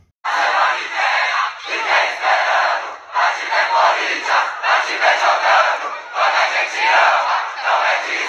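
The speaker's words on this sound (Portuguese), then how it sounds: "Dá uma olhadinha na torcida do Corinthians, a maior torcida do Brasil que apoia o time ganhando ou perdendo" Corinthians football supporters chant loudly in unison near an open training session, a dense roaring crowd sustained in rhythmic phrases with brief dips between lines.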